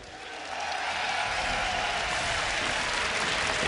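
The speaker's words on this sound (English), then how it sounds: "if you want to see them take this game, give them a cheer" A large crowd at a European regional esports match erupts into sustained cheering and applause for SK Gaming, swelling quickly and then holding as a loud, steady roar.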